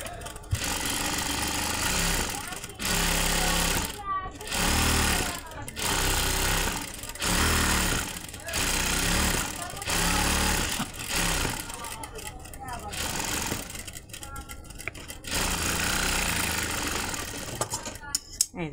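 A sewing machine stitches lace onto a dress sleeve, running loud and close in a series of bursts lasting a few seconds each, separated by brief pauses.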